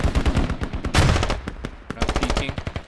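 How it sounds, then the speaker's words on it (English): Rapid bursts of automatic gunfire and single shots crackle through a firefight in the military shooter game SQUAD during a mosque assault, dense and loud with overlapping near and distant fire and a brief heavier blast. "Yeah, there's a lot of gunfire."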